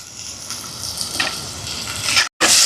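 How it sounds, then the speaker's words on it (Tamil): Tomatoes sauté in a pan over a firewood stove for a Jaffna crab curry, giving a steady, close sizzling hiss with soft crackles that swells toward the end, broken by a brief cut-out. "தக்காளி பழம் கொஞ்சம் வதங்கட்டுக்கும்"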